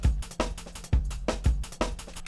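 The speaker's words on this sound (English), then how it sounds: "if I were to play this very simple drum and bass loop right here," A simple drum and bass loop in Bitwig thumps along with punchy kicks and snappy hits in a quick, repeating groove, loud, close and dry.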